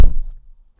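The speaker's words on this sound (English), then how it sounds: "So let's open the door, close it" A Fisker Ocean car door shuts with a single heavy, close thunk that decays quickly into a short low rumble.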